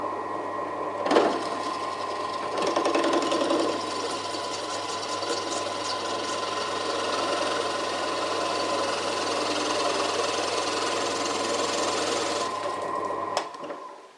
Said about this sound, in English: remember I'm drilling the coin and the wood and everything at the moment